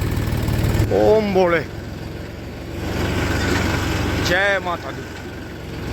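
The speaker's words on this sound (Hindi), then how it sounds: "दोस्तों अब हम आ गए हैं ट्रैक्टर पर, चलते हैं जी धीरे धीरे।" A tractor engine chugs steadily while driving slowly in a high gear on a sugarcane-hauling trip, a continuous low rumble under someone speaking.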